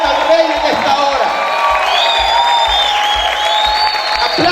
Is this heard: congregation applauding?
yes